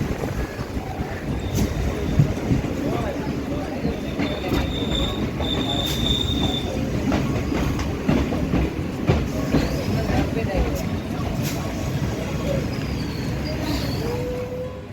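A Kolkata circular rail train pulls into Sovabazar Ahiritola station, with a steady loud rumble of wheels on track, rattling carriages and thin high wheel squeals drifting in and out over about fifteen seconds.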